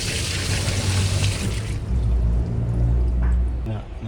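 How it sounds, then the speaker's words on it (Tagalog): Water poured into a leaking washing machine during a leak test, a broad steady rush that runs loud through the first half and continues more darkly to the end, with a low machine hum underneath. "Lagyan natin tubig."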